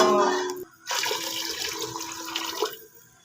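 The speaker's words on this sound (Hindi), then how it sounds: "एक गिलास मैंने इसमें पानी ऐड कर दिया है।" A glass of water poured into a pan while making savory vermicelli (namkeen savaiya), a steady splashing pour running for a few seconds, close and moderately loud, alone without talk.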